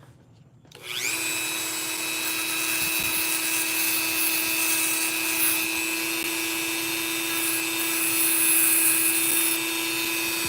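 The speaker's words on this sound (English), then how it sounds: "We got some power sandpaper right here, though." A power sander runs steadily on a wood surface in a workshop, starting up with a whine after a brief quiet moment and then holding a loud, continuous buzzing drone with a sustained high-pitched hum throughout.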